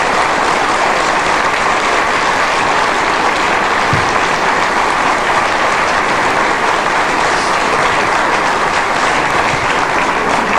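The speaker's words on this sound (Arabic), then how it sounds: "صفقوا معي" Loud, dense applause from a large crowd at a 1980 Gulf festival awards ceremony, a continuous roar of clapping that stays at full strength throughout.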